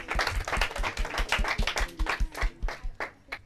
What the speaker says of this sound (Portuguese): Muito bem, palmas para eles.